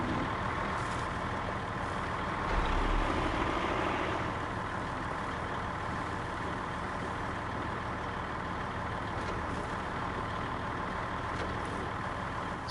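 A truck engine strains hard in the off-road driving game SnowRunner, giving a loud, dense, unbroken roar that holds steady throughout with little variation.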